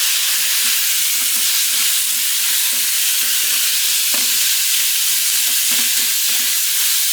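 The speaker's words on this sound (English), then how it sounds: "put this hamburger in the frying pan here." Raw hamburger meat sizzles steadily in a frying pan, a dense continuous crackle with occasional louder pops and stirring scrapes, close up and with no talking.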